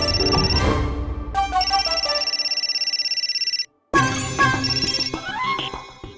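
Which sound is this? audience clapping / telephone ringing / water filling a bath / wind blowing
telephone ringing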